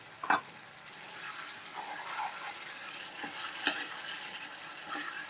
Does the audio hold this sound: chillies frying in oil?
yes